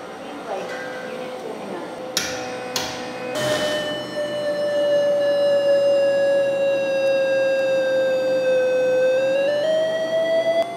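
A helium leak detector on an ultra-high-vacuum chamber sounds a steady, loud whistling tone that holds, dips slightly and then slides upward near the end, after a few sharp clicks early on.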